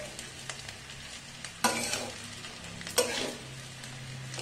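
Vegetables with a splash of vinegar are gently stirred in a pan, a soft sizzle punctuated by two louder scraping sweeps of the spatula and a few light taps.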